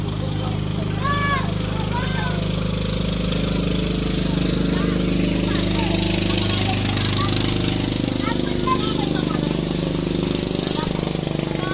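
Motorized bangka boats passing on the water near a riverside eatery, a steady mid-pitched engine drone with a rattling chug throughout, while people talk and birds chirp in the background.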